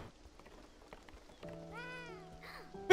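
In the video game Beyond Eyes, a cat gives a faint meow and then a rising, drawn-out mew over quiet ambient game sound.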